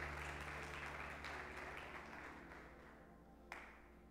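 Applause from a church congregation during a Portuguese-language sermon, a steady wash of clapping at moderate level that slowly thins and fades over a few seconds, with a faint low hum underneath.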